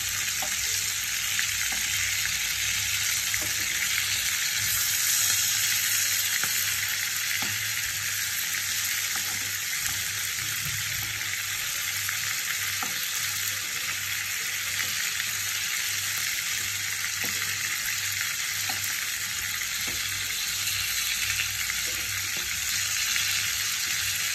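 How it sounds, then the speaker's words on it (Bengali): Prawns frying in oil in a pan for a Bengali chingri curry: a loud, steady, bright sizzle holding evenly throughout, with faint occasional clicks of stirring underneath and no talking. "তো এখন আমি আরেক সাইডগুলো ফ্রাই করে নেব"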